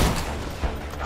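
Video game gunfire in Borderlands 2, likely from a sniper rifle: a short, dense crackling burst with a low thump in the middle, loud and close, with no talking.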